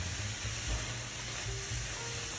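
Bay leaves and minced garlic sauté in a pan with a soft, steady sizzle heard close up and fairly quiet, with light stirring bumps and no voices.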